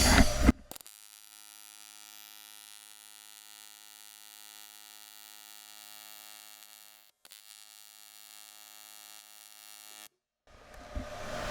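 Steady electric hum and buzz of TIG welding on metal with a 50-50 argon-helium gas mix for a Porsche 550 dash subassembly, interrupted by a couple of brief breaks in the arc.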